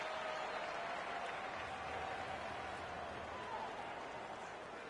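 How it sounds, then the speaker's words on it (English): An arena crowd at an NHL 21 hockey video game, heard as a steady wash of cheering and applause-like roar that holds at an even level throughout, with no distinct voices standing out. "You can feel the energy in this crowd."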